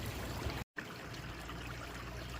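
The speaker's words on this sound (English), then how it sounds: "water goes through rocks, under rocks. This is exactly what it's doing here." Water runs through and under rocks at a roadside culvert, a steady close trickling stream with no voices, cut by a brief silent gap.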